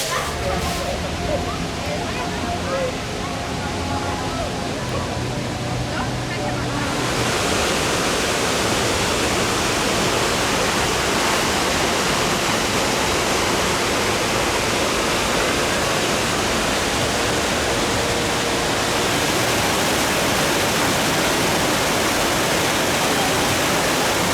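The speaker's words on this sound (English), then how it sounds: "It's a really beautiful area of the park where the rapids are" Rushing water from the rapids ride area at Heide Park, a steady, loud, broadband roar that fills the whole stretch, with a voice talking over it.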